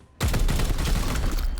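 Gunfire from basic shots in the Warhammer 40,000: Chaos Gate – Daemonhunters video game, a sudden loud burst of rapid, dense shots that starts abruptly and sustains to the end.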